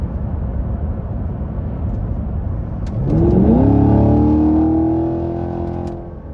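A 2024 Chevrolet Camaro 2SS 1LE V8 engine pulls hard under acceleration, its steady cabin rumble rising into a strong revving climb that holds loud for a few seconds, then eases off, heard from inside the car without talk.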